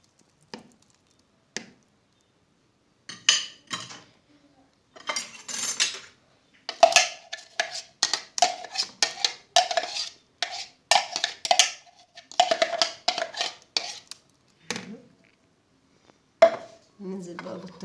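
Utensil clinks and scrapes against a wide dish while mashed eggplant is mixed with garlic, salt and chili for Egyptian baba ghanoush, coming in close irregular bursts with pauses and no talk.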